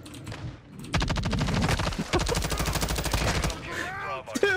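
Call of Duty: Modern Warfare 2 gunfire: rapid machine-gun bursts rattle loudly through most of the clip, dense and close, with squeaky game sounds near the end and no speech over it.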